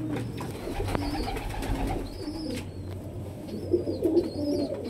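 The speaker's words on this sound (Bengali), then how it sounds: "এই যে পায়রাটা" A pigeon coos close by in low, soft, repeated calls, with a few faint higher chirps over a quiet background and no voices.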